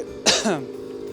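One short, close throaty cough or throat-clear from foul-smelling air in a factory, a single rough burst that trails off quickly.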